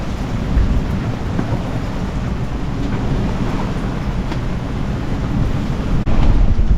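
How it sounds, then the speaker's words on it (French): Steady heavy rain from a passing squall roars continuously with gusting wind noise buffeting the microphone, a dense broadband wash that stays loud throughout. "il pleut encore pas mal"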